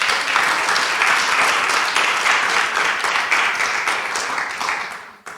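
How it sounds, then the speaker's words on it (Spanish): A church congregation applauds together, a dense steady wash of many hands clapping that holds loud for several seconds before tapering off near the end. "¿Cuánto le da un aplauso al Señor?"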